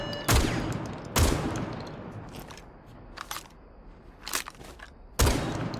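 Shotgun shots fired in Rainbow Six Siege, several sharp, loud blasts spaced a second or so apart with fainter impact sounds between them.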